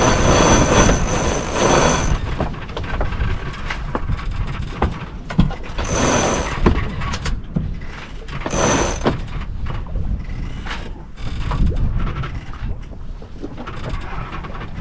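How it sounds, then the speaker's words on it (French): A sailboat's autopilot mechanism runs under steady wind and water noise, with a continuous mechanical hum and intermittent whirring bursts close by on deck. "Je vais remettre mon pilote automatique."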